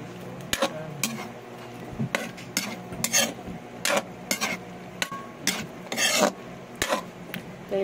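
Meat for Filipino menudo cooking in a pan, stirred with a utensil in repeated scraping, rasping strokes at an uneven rhythm, close and fairly loud, with a quieter sizzle between strokes.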